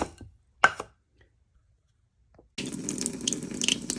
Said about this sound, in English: Now I'm adding water to my Durabond to get it to just a nice consistency.